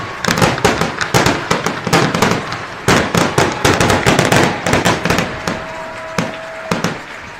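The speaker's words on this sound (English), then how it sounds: "That's some good fireworks right there." Fireworks greeting the home team at a Penn at Valparaiso high school football game, a rapid run of loud cracking bursts and pops over about seven seconds, with a steady tone underneath near the end.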